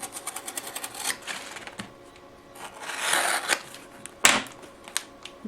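A blade cutting open a cardboard box shipped from China, with quick rasping tears and scraping strokes, a few sharp snaps, and a louder rip near the end, close to the microphone.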